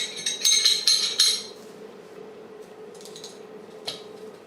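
Metal parts of a Glock 35 Gen4 pistol clack and click during reassembly, with a burst of sharp metallic rattling at the start, then quieter handling and a single click near the end.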